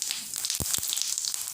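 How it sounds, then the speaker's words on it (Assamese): Half a small spoon of cumin seeds sizzles in a hot kadai on a gas stove, the start of an Assamese mixed vegetable paneer dish: a steady, close, bright hiss with two short knocks partway through. "এতিয়া মই গেছত কেৰাহী বহাই দিছোঁ আৰু কেৰাহীখন গৰম হ'বলৈ দিছোঁ মোৰ এতিয়া কেৰাহী গৰম হৈ গৈছে আৰু ইয়াত মই এতিয়া দিছোঁ জিৰা"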